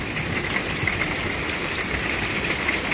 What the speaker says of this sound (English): it would be cool if it stopped hailing now